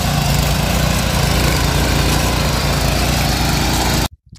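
A small I-Make power weeder engine runs loud and close at a steady, buzzing pitch for about four seconds, then cuts off abruptly into near silence.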